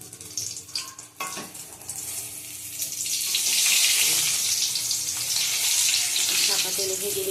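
Eggplant frying in hot oil: a few clatters and knocks at first, then a loud, steady sizzle and crackle that swells and holds to the end.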